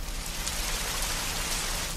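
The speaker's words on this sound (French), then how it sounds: "Par exemple là, voilà la pluie." A recorded rain sound effect played during a theatre performance: steady, dense rain patters on a surface, a continuous hissing downpour with no breaks, close and fairly loud.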